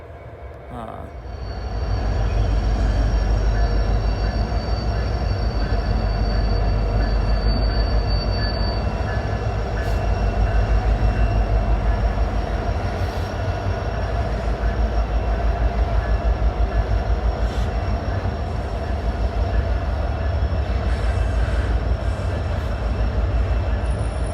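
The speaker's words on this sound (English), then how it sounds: "These are 40-foot containers on this Norfolk Southern train." A long Norfolk Southern freight train carrying 40-foot containers rolls steadily past close by, with continuous heavy rumbling and occasional faint metallic squeals from the wheels.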